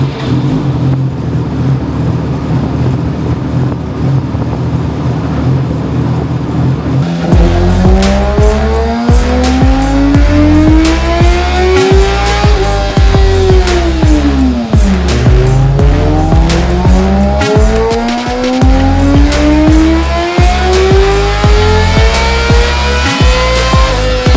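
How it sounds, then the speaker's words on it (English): A Yamaha R6 motorcycle with an M4 exhaust runs a baseline pull on a dyno, idling before roaring up through rising revs, dropping briefly and climbing again, loud and close with a steady mechanical whine and no talking. "let's go ahead and fire up the bike and do some baselines"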